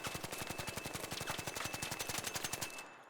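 Rapid automatic fire from the Stitcher weapon with no muzzle attachment in ARC Raiders, a steady rattle of evenly spaced shots for nearly three seconds, then abruptly stopping.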